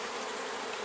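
Honey bees at a beehive during work to combine honey supers make a steady, dense buzzing drone, close and unbroken, with no voices.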